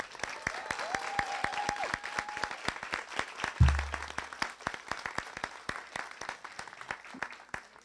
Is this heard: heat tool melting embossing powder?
no